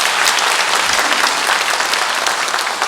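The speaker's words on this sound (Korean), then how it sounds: "우리 이분들 위해서 환영의 박수를 보내겠습니다." A Catholic congregation at a Sunday Lenten Mass in a parish church applauds in welcome, a dense, continuous burst of clapping from many hands filling the space with no voices.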